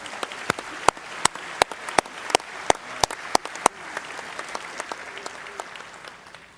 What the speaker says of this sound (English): Let's give another round of applause to all our awardees.